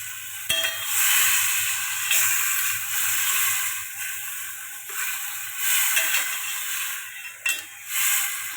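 Goat meat sizzles and fries steadily in a hot pan for mung dal curry, a continuous broadband hiss with occasional stirring scrapes and brief louder spits, close and without talk.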